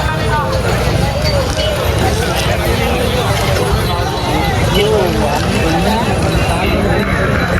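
Bulls racing at a rural bull race, hooves clattering in a fast, continuous patter amid loud crowd chatter and an announcer's voice throughout.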